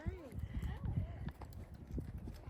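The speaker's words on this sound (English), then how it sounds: "Ooh, look at this horse." A horse walks along the California Riding and Hiking Trail in Joshua Tree National Park, its hooves making soft, steady clip-clops on the dirt under nearby chatter.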